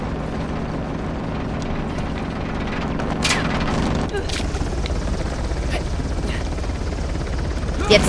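Helicopter rotor noise in the Uncharted: The Lost Legacy video game makes a steady, dense drone throughout, with a few sharp impacts like distant gunfire or a boom mixed in the game soundscape.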